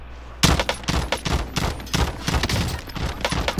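Rapid bursts of gunfire in Call of Duty Warzone, a loud, dense volley of repeated shots opening after a brief quiet moment and continuing in uneven clusters.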